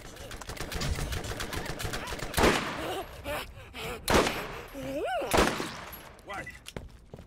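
Sniper rifle shots in Borderlands GOTY Enhanced on PC: a few sharp, separated cracks stand out over busy game noise, with someone talking during the firing.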